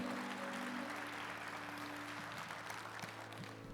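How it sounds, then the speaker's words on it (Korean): Church congregation clapping in blessing for new members during a Sunday worship service, a soft, steady wash of applause from a large hall, fairly distant and faint, with a low hum underneath. "축복의 박수를 보내주시기 바랍니다."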